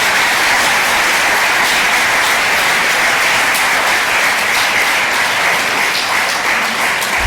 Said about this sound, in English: Another round of applause for Amy.